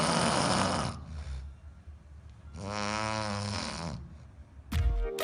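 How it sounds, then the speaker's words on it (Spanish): Snoring in deep, rasping breaths: one loud snore, a quieter pause, then a second drawn-out rattling snore and the start of another at the end. "Pero hay ronquidos severos que llegan a 90, 95 decibeles"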